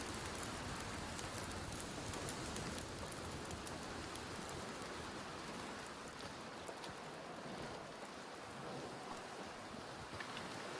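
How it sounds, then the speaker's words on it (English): Steady howling wind sweeps through a frozen wilderness in the survival video game The Long Dark, a dense continuous rush with no speech that eases slightly toward the end. "Sounds like this wind might be on the verge of dying down"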